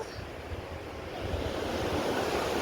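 Ocean surf washes in at a river mouth with a low, rolling roar, swelling slightly toward the end, with some wind buffeting the microphone.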